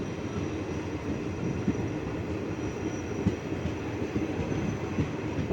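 A train rolls along the tracks in the rain with a constant low rumble and faint rattling, steady and fairly close, with no talking.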